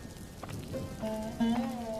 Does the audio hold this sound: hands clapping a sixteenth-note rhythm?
no